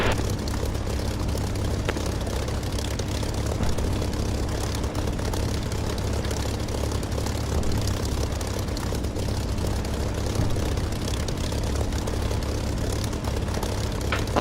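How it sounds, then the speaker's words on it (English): A propeller-driven fixed-wing aircraft in the DCS flight simulator takes off from runway 26, its engine a loud, continuous droning roar that holds steady throughout, with no talking. "I'm going to be taking off runway 26."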